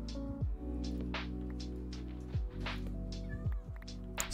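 A cat meows several times, close and fairly quiet, in short rising and falling calls over a low steady electrical hum.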